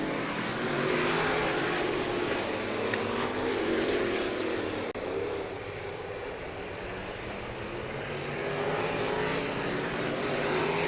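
Race cars roar through a figure 8 race at Showtime Speedway, a continuous loud engine drone from the field with a brief dip mid-way before swelling again.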